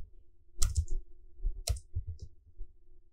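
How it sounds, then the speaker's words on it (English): A few quiet keystrokes and clicks on a computer keyboard while typing a search term, sparse irregular taps close by in a quiet room with no talking. "So you come here, you type TikTok."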